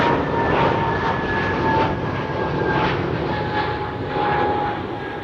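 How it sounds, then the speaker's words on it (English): A KM Malta airliner departing Amsterdam Schiphol roars steadily in the distance, its broad engine rumble holding an even level with faint tonal whines threaded through. "Meanwhile, KM Malta flew out."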